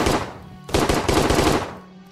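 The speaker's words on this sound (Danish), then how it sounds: "Det er nærmest bare som en lille maskingevær, det her." Rapid bursts of small machine-gun fire in a WW2 bunker simulator video game, two loud rattling volleys separated by a brief pause, with no talking.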